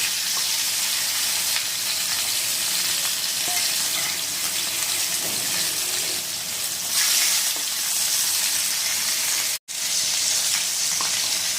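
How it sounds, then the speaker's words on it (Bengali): Rohu fish pieces frying in a pan of oil, a dense, continuous close sizzle and crackle that stays steady throughout with a brief drop near the end. "আমাদের মাছ ভাজা কিন্তু হয়ে গেছে"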